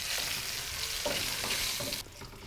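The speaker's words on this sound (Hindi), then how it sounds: "थोड़ा सा फ्राई करेंगे और साथ ही हम इसमें शामिल करेंगे 3 अदद गोल लाल मिर्च" Curry leaves, green chili and dried round red chilies fry in hot oil for a moong dal tarka, crackling in a close, busy sizzle with a few stirring scrapes before the sound drops quieter near the end.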